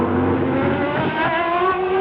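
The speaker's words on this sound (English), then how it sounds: "That's the spark being cut to some of the cylinders to slow the power delivery to the rear wheels down." A 1993 McLaren Formula 1 car with traction control cutting spark to some cylinders at the Australian Grand Prix, a loud, continuous high engine wail with a rough, stuttering misfire-like crackle running through the drone.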